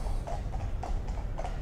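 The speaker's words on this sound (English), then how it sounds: "Horses." Horses' hooves clip-clop on a hard surface in a steady, brisk rhythm of repeated knocks, moderately close over a dense outdoor background rumble.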